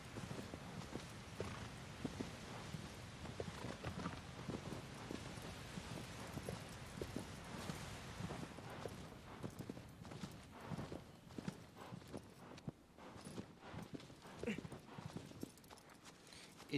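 Horse hooves clip-clopping steadily through the Shadow of the Colossus video game, a continuous rhythmic patter of footfalls with someone talking over much of it.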